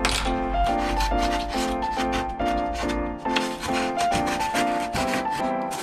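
Filing burrs off a part for a homemade DIY cat house, heard as close, loud, steady back-and-forth rasping strokes in a regular rhythm.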